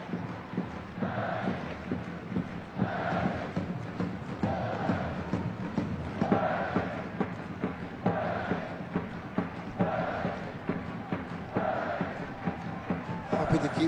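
Stadium crowd at a 2013 J League football match between Kawasaki Frontale and Shimizu S-Pulse, a steady roar with rhythmic swells of chanting and singing from the stands, continuous throughout beneath faint commentary voices.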